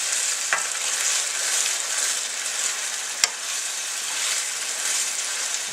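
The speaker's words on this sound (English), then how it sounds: "See how nice when you can move the pan, move the veggies, and it slowly comes in?" Garlic and vegetables sizzle steadily in a pan as they are moved around, with a single sharp clink of the pan or utensil partway through; a bright, even hiss throughout with no talking.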